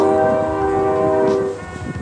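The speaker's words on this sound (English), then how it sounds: "there's a train in the background" A train passes in the background outdoors, its horn sounding as a steady tonal blast for about a second and a half before fading into a low distant rumble.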